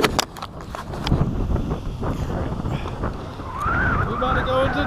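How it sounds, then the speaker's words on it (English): Wind gusts buffet the microphone out on Lake Murray during a bass fishing tournament, loud and rumbling, with a motor whine building toward the end. "This wind."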